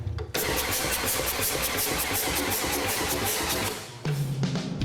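A custom motorcycle engine on a booster box cranks and catches with a loud, dense mechanical roar that holds steadily, then dips briefly and fires back up near the end.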